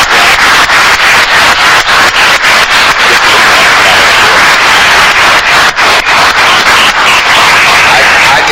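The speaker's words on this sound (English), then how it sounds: "let's give an applause to the brothers and sisters" Loud, dense applause from a lecture audience, a continuous harsh wash of clapping that sounds overloaded and distorted and lasts throughout without pause.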